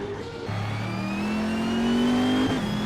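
A 2021 Ford Mustang race car in a racing video game, its engine revving loud and close with a rising pitch through a sustained pull before a brief gear change.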